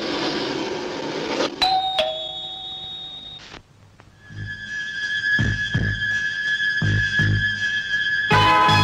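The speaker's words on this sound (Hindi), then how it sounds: "डोरबेल बजा के घुसती हैं।" An electronic doorbell chimes loudly up close, a two-tone ding followed by a sustained ringing tone, over room noise with a burst of other sound at the start.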